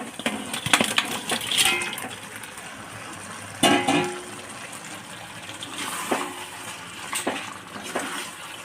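Boiled broiler chicken pieces cooked with salt, oil and turmeric are dropped into a pot of gravy, giving several sharp splashy clatters and wet thuds spaced across the moment, with a quiet background.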